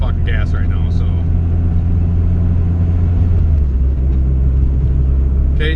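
A built turbo Honda B18C1 GSR engine in an EG hatchback pulls under very light throttle, a loud, steady low drone heard from inside the car, with brief voice sounds at the start.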